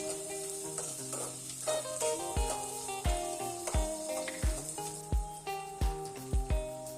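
Onions sautéing in a pan until brown for a paneer curry: a steady hiss of frying under repeated spatula stirs and sharp knocks against the pan, close and fairly quiet.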